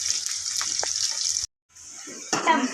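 Onions, green chillies and tomato fry in a pan with a bright, steady sizzle, broken by a brief silence before the hissing resumes, with a louder burst near the end as ingredients are stirred.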